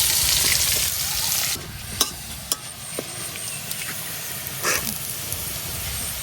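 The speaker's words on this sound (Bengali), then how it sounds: "এখন এই মাছ ভাজার তেলের মধ্যে আবার দিয়ে দিতেছি পেঁয়াজ।" Onions fry in oil left over from frying grass carp, a dense, steady sizzle close by, broken by a few sharp stirring clicks.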